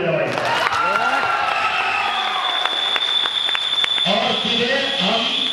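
A cinema audience at a Bhojpuri film screening claps in a dense, steady wash of applause lasting several seconds, with voices talking over it.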